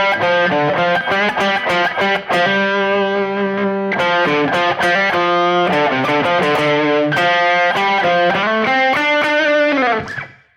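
Heavily distorted electric guitar plays a minor blues lick on the minor pentatonic scale, a continuous loud run of bent and sustained notes with picked attacks, alone and without talk, ending abruptly.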